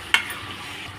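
A spatula scrapes once through gongura chicken curry frying in a pan, a short sharp stir over a low continuous sizzle, with no voices.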